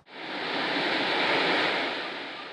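Big ocean waves crash and roar continuously on Baron beach, a dense broadband wash of surf that swells and then slowly eases, with no voices.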